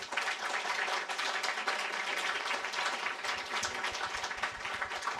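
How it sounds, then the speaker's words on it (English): Studio audience applauding the panelists after a panel discussion, a dense, even patter of many hands clapping at moderate volume throughout, with no one speaking. "Can we give them a round of applause"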